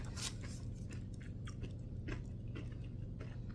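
Thick tortilla chips are bitten and crunched close to the mic, with a few sharp crisp snaps and chewing over a quiet, steady background hum.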